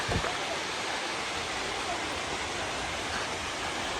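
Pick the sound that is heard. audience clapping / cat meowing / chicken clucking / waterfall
waterfall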